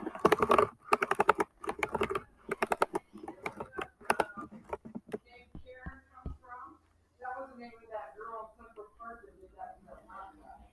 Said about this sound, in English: I'm just shuffling my finger on the keyboard.